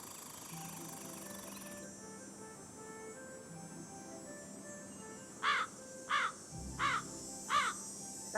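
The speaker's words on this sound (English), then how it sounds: "That sounds like the crow." Crow in Nancy Drew: Ghost Dogs of Moon Lake gives four harsh caws in a fairly even rhythm, fairly close and clear, over a quiet ambient background.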